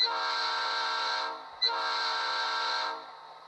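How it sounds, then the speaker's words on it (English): Horn of an HO scale Rapido Amtrak F40PH model locomotive with a DCC sound decoder, two long sustained multi-tone blasts separated by a brief gap, clear and close, no talk over it. "You hit the horn,"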